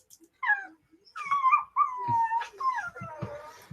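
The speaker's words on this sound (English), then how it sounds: "Cute little puppy asking to come up." A puppy whimpers and whines in a string of high, rising and falling cries asking to be picked up, close and clear, with a few soft thumps and no talk.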